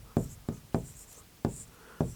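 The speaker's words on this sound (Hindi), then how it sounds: "तो चलिए हम लिखते हैं, आप भी साथ साथ लिखते चलिए नोट्स में।" Pen strokes on paper while handwriting notes for a Hindi grammar lesson come as six short, crisp scratches in an uneven rhythm, close and quiet with no talking.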